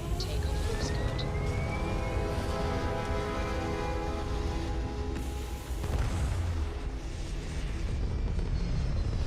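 Spaceship lifting off in Starfield: a sustained loud engine roar with rising whine tones and steady broadband rumble for about nine seconds, with a brief swell near the middle, no talking.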